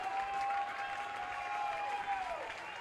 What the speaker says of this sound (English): The crowd rising to their feet here in Southern Maryland.